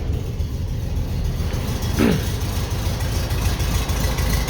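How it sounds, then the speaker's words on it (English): A 25-horsepower 1952 split-window VW Beetle engine rumbles steadily at idle nearby, with a brief rise in revs partway through before settling back to its low, even chug. "there's nothing like the sound of a 25 horsepower Volkswagen"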